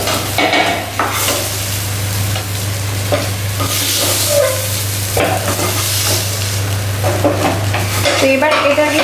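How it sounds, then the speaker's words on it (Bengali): Fried potatoes are lifted out of a sizzling pan. Repeated scrapes and light utensil clinks sound close up over a continuous low hum and frying hiss. "আলুগুলো তুলে নিই, আলুগুলো হয়ে গেছে ফ্রাই করা।"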